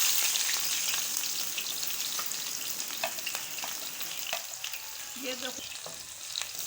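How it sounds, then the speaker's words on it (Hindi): Chopped onions fry in hot oil in a cooking pot for a turnip-and-meat curry, a continuous bright sizzle with occasional stirring clicks; a voice briefly speaks over it near the end. "माँ जी ने ऑयल में प्याज को ऐड कर दिया"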